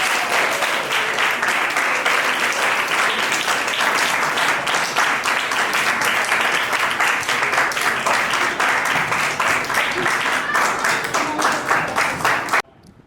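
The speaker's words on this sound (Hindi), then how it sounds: "हम तालियों के साथ उनका स्वागत करेंगे।" Sustained, lively applause as a room at a Vacation Bible School session welcomes the next speaker, Anurag, with dense, even clapping holding steady for about twelve seconds before cutting off abruptly.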